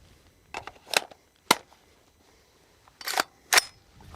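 AR rifle handled during malfunction clearance, with a fresh magazine inserted and the charging handle run: a few sharp metallic clacks and snaps spaced apart, close and crisp against near silence.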